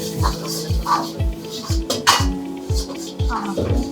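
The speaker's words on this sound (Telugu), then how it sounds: "ఆనియన్ నేను కొంచెం తిప్పుతాను" Onion being stirred in a frying pan with garlic and green chilli, a spatula scraping and knocking the pan in a steady rhythm of about two strokes a second, loud and close, with a faint voice in the background.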